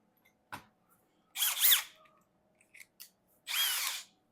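A Milwaukee impact drill removing screws whirs in two short bursts with a click between them, close and loud against a quiet background.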